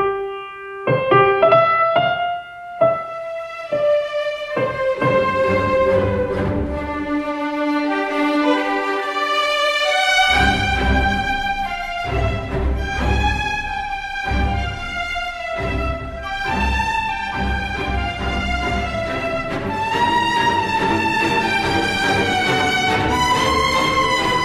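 An orchestra plays the idée fixe theme from Berlioz's Symphonie fantastique: a loud, sweeping melodic line over full strings and winds, with a brief hush near ten seconds before the ensemble swells again.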